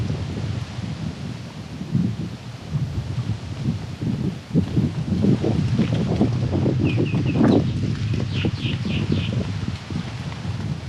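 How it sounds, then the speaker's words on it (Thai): Strong gusting wind blows across Mae Mai island, a small river island in Chiang Rai, as a loud, steady rumble buffeting the microphone, with a few brief high chirps late on. "โอ้ยลม"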